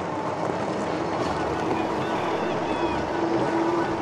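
A modified electric lawn tractor drives past in fifth gear, giving a dense, steady rumble with a faint whine that stays loud and even throughout.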